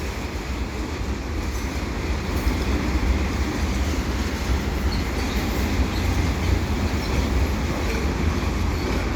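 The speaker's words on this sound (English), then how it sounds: "this is a westbound CP train" A westbound CP mixed freight with a BNSF locomotive and long strings of auto racks passes beneath highway ramps at Dorval, a steady, close rumble of wheels and wagons that continues without a break.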